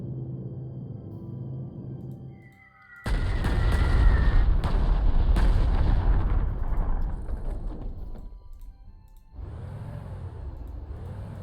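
Artillery fire in the Panzer Corps 2 wargame: after a quiet opening, a loud booming barrage erupts and rumbles for several seconds, then fades before another low rumbling burst returns.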